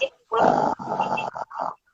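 A storyteller's voice imitates a cricket's snoring in a children's story, giving several rough, grunting snore sounds in quick bursts, close and fairly loud.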